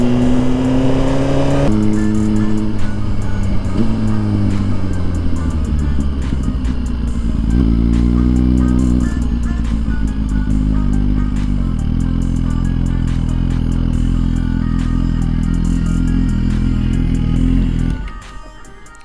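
A 2023 Suzuki GSX-R1000 sport motorcycle is ridden in rain, its loud engine running steadily with gear changes and revs rising and falling for most of the stretch before cutting off abruptly near the end.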